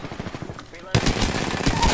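Gunfire in the video game Apex Legends. Soft scattered sounds give way to a loud, sustained burst of rapid automatic shots that continues to the end, close and forceful.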